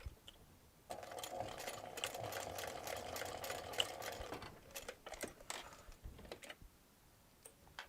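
A sewing machine stitches a crossbody bag in a steady, fast mechanical run of about three and a half seconds, then stops, followed by scattered clicks and handling taps close by.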